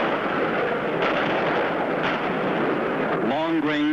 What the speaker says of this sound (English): Long-range Israeli artillery, sending shell after shell into southern Lebanon.